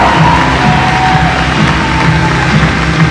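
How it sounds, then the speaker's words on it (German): A crowd at a comic convention in Vienna cheers and applauds a cosplayer on stage. The noise is loud, dense and steady throughout. "das ist einen Applaus wert"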